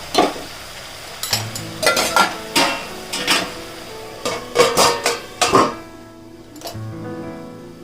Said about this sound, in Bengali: আমি মশলাটাকে একটু সময় নিয়ে ভালো করে কষিয়ে নিচ্ছি।